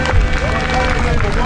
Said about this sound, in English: Let's give Darren a round of applause.